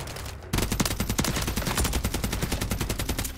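Rapid automatic gunfire from a Call of Duty: Modern Warfare III beta match, starting abruptly after a brief lull and continuing as a dense, loud, steady burst of shots with no talking.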